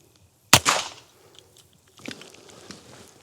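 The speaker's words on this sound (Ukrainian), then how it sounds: "Постріл." One sharp, loud shot from a Fort-12R rubber-bullet pistol cracks close by and decays quickly, followed by faint clicks and handling noises.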